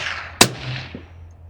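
Single sharp crack from a suppressed DIY rifle, a short loud report with a brief trailing echo, followed by a faint distant thump and quiet outdoor background.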